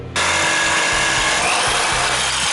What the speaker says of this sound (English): our other cuts we're gonna have to get with our jigsaw